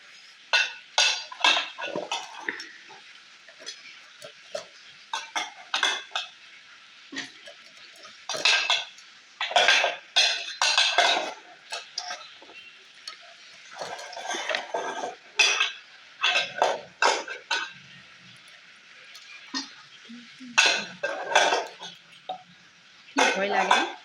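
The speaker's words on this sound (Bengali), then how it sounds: "মাছ কাটছে" A knife cutting stinging catfish, shing fish, with repeated scraping and clinking strikes against a metal pan or dish, irregular bursts of close, bright metallic sounds separated by brief pauses, with occasional voices.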